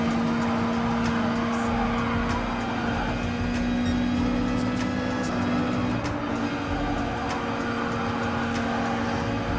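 Race car engines in Gran Turismo Sport, with a BMW M6, Volkswagen Beetle and FT1 in a custom race, drone steadily and loudly with a constant tonal hum throughout.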